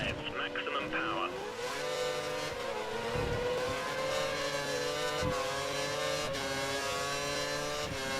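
A Formula 1 car in F1 2013, a Sauber racing at Bahrain, holds a loud, steady high-revving engine drone that climbs in pitch and stays near continuous, with a commentator talking over it.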